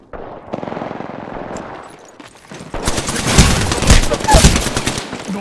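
Automatic weapon fire in the Apex Legends video game: sparse shots give way to loud, rapid bursts of machine-gun fire that build and overlap, dominating the second half.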